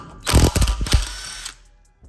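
Bauer impact gun zapping lug nuts off a car wheel during a rotor and brake job on an Acura TSX Sport Wagon: one loud, close, rattling burst of hammering lasting over a second, then quiet.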